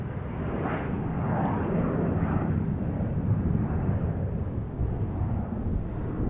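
An airplane taking off from Tucson International Airport, a steady, loud broadband engine roar that holds evenly throughout without fading.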